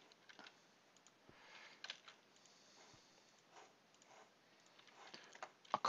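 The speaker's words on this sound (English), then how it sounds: "Just double clicking things starting to piss me off." A computer mouse double-clicks while someone plays a Tekkit modded game, giving faint, scattered pairs of sharp clicks over a quiet background.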